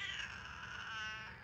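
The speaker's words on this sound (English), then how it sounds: "Hi, Bulbush Cat! What are you doing? Say hi" A pet cat meows indoors, one drawn-out, fairly faint and close call that tails off, heard alone without talk.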